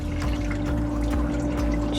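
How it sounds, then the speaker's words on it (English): Used engine oil pours out of a Toyota Sienna's removed oil filter, a thick, steady gurgling stream at close range, loud and continuous over two seconds with no talking. "just pouring the rest of the oil out"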